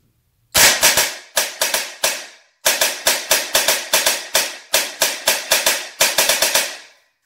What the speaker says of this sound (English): So let's hear this trigger response.